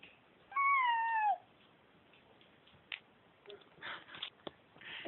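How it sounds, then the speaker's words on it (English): A house cat gives one clear, fairly loud meow early on, followed by faint rustling and handling noises at low level. "Heather, let go of the cat."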